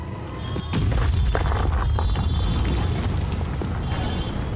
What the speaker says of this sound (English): Falling debris, explosions, and car alarms replaced the honking that had once consumed the air.